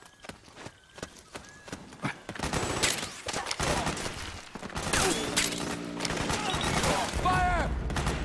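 Gunfire in Metal Gear Solid 4: rapid shots crack over one another in a dense fusillade, with soldiers shouting in the background as the firing swells to a loud, continuous battle din.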